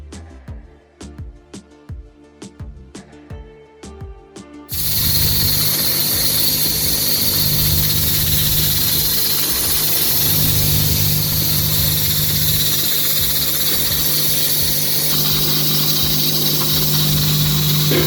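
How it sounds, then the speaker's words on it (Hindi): A pressure cooker on a low flame steaming rajma gives a loud, steady hiss that holds for most of the clip. Faint clicks and tones come before it. "अब हम कुकर का ढक्कन बंद करके 30 मिनट तक हल्की आंच पर पकाएंगे"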